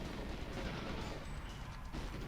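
Dense, rumbling explosions fill the scene in the GoldenEye 007 HD Remaster video game, a continuous loud barrage of booms and blasts with no clear gaps.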